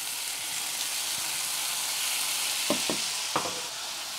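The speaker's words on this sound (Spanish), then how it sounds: "aquí dejamos que se nos rehogue un poco lo que va a ir de fondo, que es el guiso" Onion, tomato and garlic sauté in a pan for a stew base with a steady close sizzle, broken near the end by three quick spoon scrapes.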